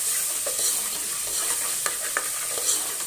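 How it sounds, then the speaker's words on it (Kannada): Masala seasoning with onion and garlic sizzles steadily in hot oil for a village-style mutton sambar, stirred by hand with a few sharp scraping clicks of the spoon against the pan, close and continuous. "ಒಂದು ಫ್ರೈ ಮಾಡ್ತೀನಿ ಅದನ್ನು."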